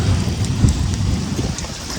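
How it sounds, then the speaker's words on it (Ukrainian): Heavy rain pouring down at a lake during an ultralight fishing trip, a dense, continuous hiss of drops on water and surfaces with no pauses, loud and close throughout. "Дуже сильний дощ починається."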